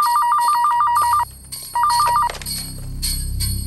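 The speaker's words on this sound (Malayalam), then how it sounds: "ഫോൺ എടുക്കടി, ഫോൺ എടുക്ക." A mobile phone ringtone trills in rapid warbling bursts, loud and close, pausing briefly before repeating, while low background noise and movement sound beneath it in a Malayalam film scene.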